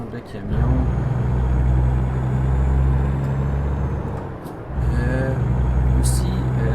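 A heavy truck engine in a truck simulator video game rumbles low and steady while the truck keeps reversing, breaking off briefly before restarting, with a short hiss of air brakes and someone talking over it.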